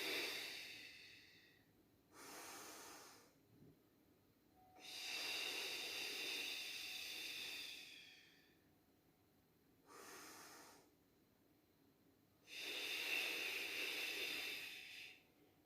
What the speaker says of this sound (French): On maintient, on inspire, expire, on tend.